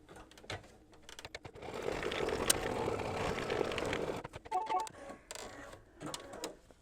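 Embroidery machine stitching a tack-down line through fabric layered over batting, a steady close mechanical whirring chatter of about two seconds that gives way to a few scattered clicks and taps.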